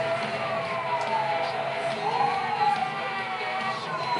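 A police siren in Need for Speed Hot Pursuit wails, rising and falling steadily at moderate volume, with a low engine-like hum beneath and no talking.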